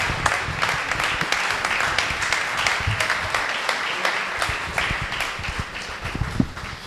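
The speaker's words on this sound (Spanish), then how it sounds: "Y un aplauso," An audience applauding the speakers at a panel event on political representation limits, a dense, sustained wash of many hands clapping for the whole stretch, fairly loud and even, with no distinct voices over it.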